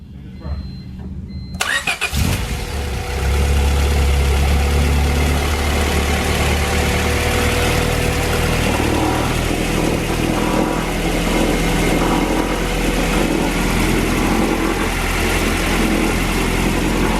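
Swapped Honda B18C Type R engine in a 2000 Civic Si cranks and fires on its first start, then settles into a loud, steady idle close by, with people talking over it.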